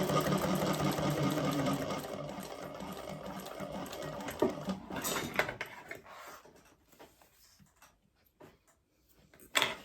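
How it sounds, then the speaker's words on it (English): A sewing machine top stitches along the outside of a bag, humming in a steady whir that slows and stops halfway, followed by quiet handling clicks and faint rustling. "I'm going to open it up, top stitch along the outside."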